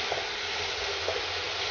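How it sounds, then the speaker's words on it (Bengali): Vegetables frying in a pan with salt and turmeric, a steady close hiss and sizzle that holds level throughout with faint stirring. "1 মিনিট মতো লবণ আর হলুদ দিয়ে আমি সবজিটা ভেজে নেব।"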